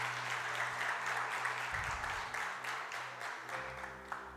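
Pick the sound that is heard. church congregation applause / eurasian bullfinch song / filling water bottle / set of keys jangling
church congregation applause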